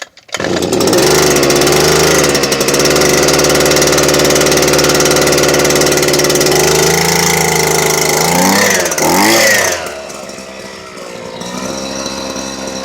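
A gas-powered Racine railroad impact gun engine roars loud and close at high revs. Its pitch wavers and dips near the end, then it settles to a lower, steadier running note.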